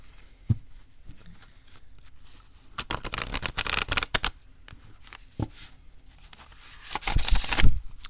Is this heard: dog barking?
no